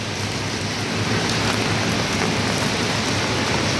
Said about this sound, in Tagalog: Maglakad sa ulan.